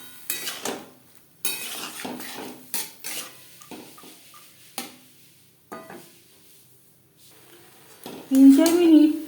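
Boiled chana dal is stirred with spices in a pan, heard as sharp separate clanks and scrapes of a spoon against metal between quiet gaps, ending in a louder burst of frying, with a faint voice briefly present.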